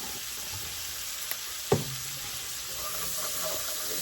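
Garlic and bacon sizzle in a pan for cowboy spaghetti, a steady loud hissing fry throughout, with a couple of sharp utensil knocks against the pan near the middle.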